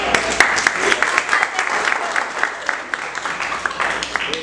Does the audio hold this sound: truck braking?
no